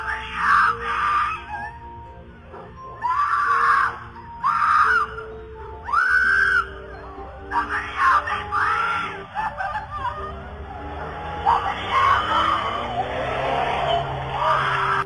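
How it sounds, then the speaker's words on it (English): Woman screaming inside a car speeding through a neighborhood street, caught on a doorbell camera: repeated loud, shrill cries in bursts over engine noise and tire skids, fading into rumbling traffic. "a woman was heard screaming, "Help me, somebody help me," in a car that was speeding down the neighborhood"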